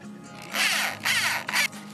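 A driver sinks wood screws into a grill panel in three short whirring bursts, each lasting under half a second and separated by brief pauses, heard close and alone.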